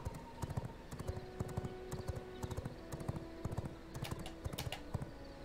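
Rapid clip-clop of horse hooves while riding in the video game V Rising, a fast steady rhythm of quiet thuds under faint background sounds.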